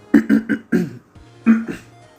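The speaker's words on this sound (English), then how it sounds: "I'm coughing a lot." Six short, harsh coughs or throat-clearing bursts in a quick series, close and fairly loud, with brief pauses between them.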